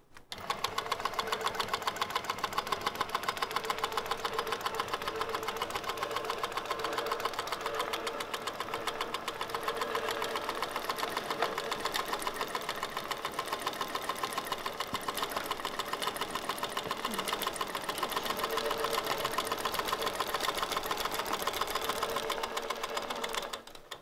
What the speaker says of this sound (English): I will now baste down my quilt top using the standard speed of around 400